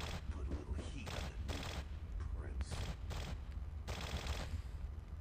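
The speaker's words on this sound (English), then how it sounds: "I can't hear you over the gunshots." Rapid gunfire from the video game Vampire: The Masquerade – Bloodlines, bursts of shots crackling loudly and continuously through the whole stretch with a dense low rumble underneath.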